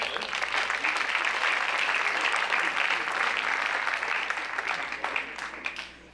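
Audience at a school academic awards assembly clapping steadily for several seconds, a dense, even applause from a full room that tapers off toward the end.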